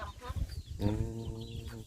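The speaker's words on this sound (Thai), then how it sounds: "ไก่" Chickens clucking close by in a lively rural setting in Thailand, where a fighting-cock wager is under way, with short rhythmic clucks and a harmonic call in the middle; no talk over it.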